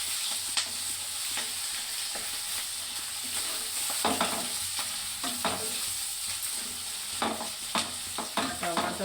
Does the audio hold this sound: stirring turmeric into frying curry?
yes